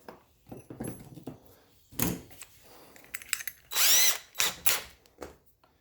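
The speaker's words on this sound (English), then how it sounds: "drill the new one we just made" A power drill bores a quarter-inch hole in a newly made plastic ring bender jaw, in short, separate bursts of whirring, some louder and sharper than others, with quiet gaps and handling knocks in between.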